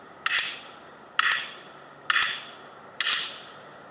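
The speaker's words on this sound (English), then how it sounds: "There's that sledgehammer I mentioned." A sledgehammer strikes blocks while building an outdoor fire pit, four sharp close impacts landing at an even, roughly one-second pace, each with a short ringing decay and no speech.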